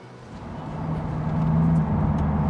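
Chevrolet C8 Corvette engine hums low and steady while driving, a near, continuous drone that swells slightly in loudness with no voices.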